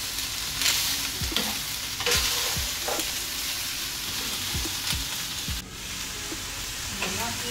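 Bell peppers sizzle and fry in a hot pan for chicken fajitas, a steady crackling hiss broken by repeated scraping stirs of a utensil, close and fairly loud with no talking.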